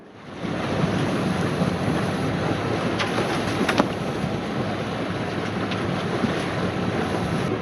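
Hallberg sailboat under way in open water off French Polynesia, with a steady wash of waves against the hull and strong wind buffeting the microphone throughout, plus a few faint creaks from the boat.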